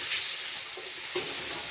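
Frozen onions, about two onions' worth, sizzle in a hot pan with a steady close hiss, broken by a couple of brief stirring scrapes.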